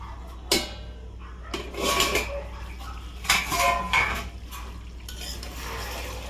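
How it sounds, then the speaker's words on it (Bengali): Clattering metal clanks of a pot lid being lifted and handled at home while cooking a mutton curry, with several sharp knocks and scraping rattles spread across a few seconds. "তো এবার ঢাকনাটা খুলবো বন্ধুরা।"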